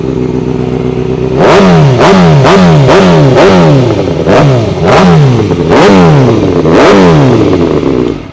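A sport motorcycle engine, a Honda CBR1000RR or Kawasaki ZX6R, revs hard again and again from idle, each loud, close blip rising in pitch and falling back in a fast, aggressive series.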